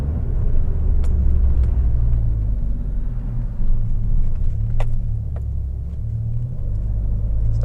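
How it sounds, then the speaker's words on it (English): A car with no mufflers, straight from the factory, idling with a loud, deep, steady engine rumble up close, with faint clicks and ticks now and then. "This car does not have mufflers."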